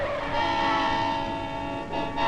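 A railroad-crossing train horn in the USA blares loud and sustained, its steady chord holding close by over the rumble of a passing train for the whole stretch, dipping briefly near the end.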